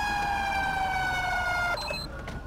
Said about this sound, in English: Did I leave my siren on?